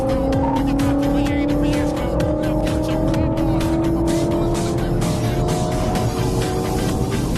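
A Ford Mustang GT and a Dodge Charger police car accelerate hard during a night pursuit in Arkansas, their engines roaring loud and close in one continuous, rising, high-revving drone with hints of tire noise.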